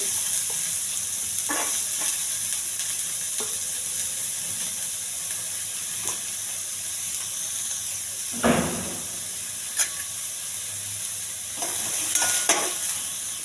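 Onion and cumin frying in a little oil on a hot pan, a constant hiss with occasional spoon scrapes and a louder stirring clatter partway through.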